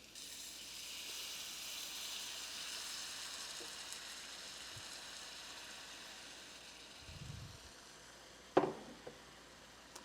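Chicken broth hits a hot pan and sizzles with a steady, faint hiss that fades gradually, broken near the end by a low thud and a sharp clatter.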